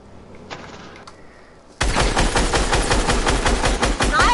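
Video game gunfire bursts in abruptly after a quiet stretch, then a loud, continuous run of rapid automatic shots, close and dense with no pauses.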